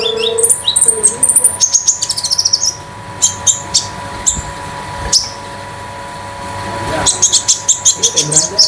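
A metallic sunbird (konin damar metalik) sings at close range in rapid bursts of sharp, high chirps and trills, with quieter gaps between and a faint mechanical hum underneath.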